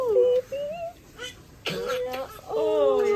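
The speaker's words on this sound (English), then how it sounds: "Legitimate cough." A baby gives a short cough among small vocal sounds, near and fairly loud, with brief adult voices nearby.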